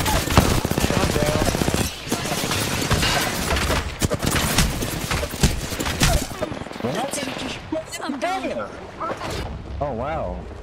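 Loud rapid gunfire from a video game match crackles in dense bursts for several seconds, then gives way to sparser shots and game sounds with some voices.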